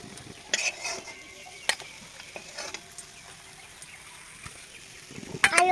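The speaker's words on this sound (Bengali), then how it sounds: "বাদ বাকিগুলো এভাবেই ভেজে নেব। একটা একটা করে দিয়ে দেবো এখানে।" Radish fritters frying in a pan give a quiet, low sizzle, punctuated by scattered clinks and taps of a spatula or utensil against the pan, with a small cluster of knocks near the end and no speech.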